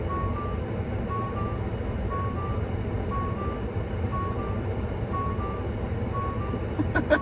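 A Ford F-150 Lightning's driver assistance warning chime dings at a regular interval of roughly one double tone per second inside the cab, fairly soft over a steady road rumble.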